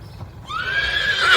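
A horse whinnies with a loud, rising then wavering high-pitched call, heard close and clear, with faint hoof clip-clops beneath it at the start.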